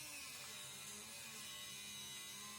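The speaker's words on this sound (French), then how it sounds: "on découpe tout ça en utilisant une meuleuse" An angle grinder with a cutting disc slices a knife blank from a flat XC75 carbon steel plate, producing a continuous loud, harsh high-pitched whine with no pauses.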